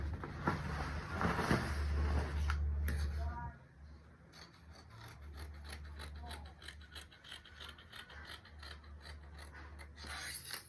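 Scissors trim excess fabric from a pocket piece for a beaded kimono gown, with a rough rasping cut and then a run of quiet rhythmic snips over a low background hum.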